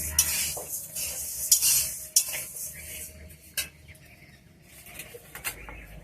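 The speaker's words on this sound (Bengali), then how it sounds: "যেহেতু এটা ভাজা ডাল তো আমি একটু হালকা ভেজে নেব।" Mashkalai dal lightly dry-roasted in a pan: scattered scraping and clinking stirs with a faint sizzle, close up, with a bird audible faintly in the background and no talking.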